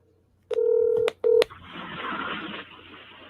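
Touch-tone telephone dialing a call, two loud beeping tones in quick succession followed by a soft hiss of line noise as the call connects, alone and close.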